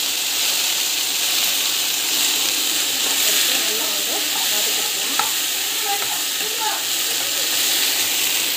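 Garlic sautés in a hot pan with a steady, loud sizzle, while occasional scraping stirs cut through the constant frying hiss.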